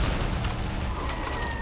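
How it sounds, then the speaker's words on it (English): Grenade launcher fire blasts during a street firefight in the Call of Duty: Black Ops campaign mission Operation 40, with loud, dense battle noise and a few sharp bursts standing out close by. "Oh, grenade launcher."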